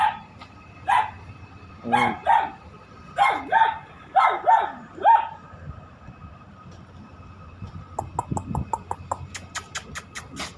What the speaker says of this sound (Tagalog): Yung isa, kahol ng kahol dun, no?